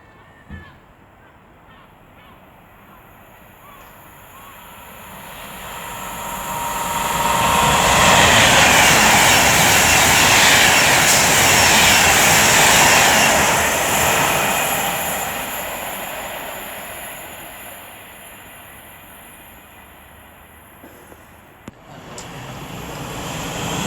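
An Avanti West Coast train, unit 39125, runs from Manchester Piccadilly to London Euston through Lichfield Trent Valley station. Its loud rushing roar builds over several seconds, holds at full strength as it passes close by, then slowly fades into the distance.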